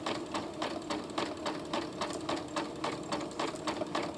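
A sewing machine with a beading foot stitches beads onto fabric, a close, fairly quiet, even mechanical rattle of rapid repeating needle strokes at a steady rhythm.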